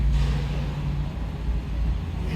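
Mercedes SLR rolling out of a workshop in Düsseldorf, its engine a steady low rumble with a broad even roar held close and loud throughout.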